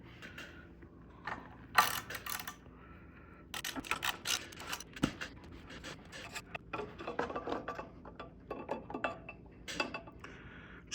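A ratchet fitted with a 24 mm socket loosens the oil filter on a 2024 Jeep Wrangler JL 3.6L, giving irregular bursts of clicking and metallic clatter, close and moderately loud, without talk.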